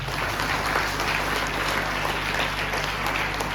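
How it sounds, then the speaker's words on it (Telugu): A church congregation at a Christmas celebration applauds together in a dense, sustained burst of clapping that fills the hall at a steady loudness from start to finish. "అందరం కలిసి హృదయపూర్వకంగా చప్పట్లు కొట్టి అయితే దేవుని వందనం చెల్లిద్దాం."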